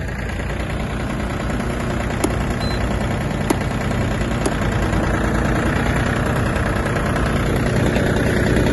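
A Japanese Mitsubishi MT-20 mini tractor engine runs steadily at idle, a loud, close, even diesel chug with a faint knocking texture throughout and no voices.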